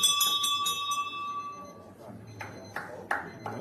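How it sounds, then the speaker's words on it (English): A bell at an indoor bowls tournament, several quick bright rings followed by a lingering tone, then more strikes with commentary talking underneath. "That's the bell."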